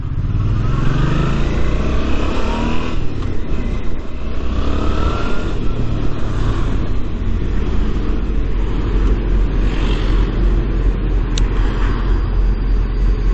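A 2018 Suzuki V-Strom 650 motorcycle ridden through traffic, its engine drone largely buried under loud, steady wind buffeting that roars continuously throughout.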